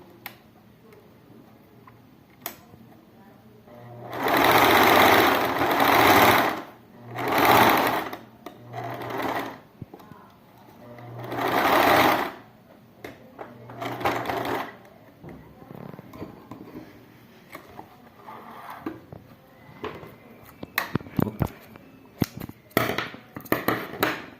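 A sewing machine stitches a pink fabric pig toy in several short bursts of fast mechanical whirring, close up. Between the runs come quiet pauses and a few faint clicks.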